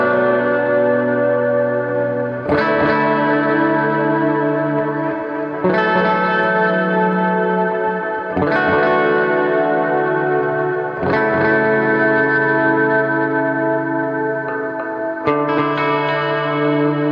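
Electric guitar runs through a Frozen Beer effects pedal in a worship-style setting, sounding a series of sustained, chorus-washed chords with long echoing decay, each new chord struck roughly every three seconds, loud and close with no voices.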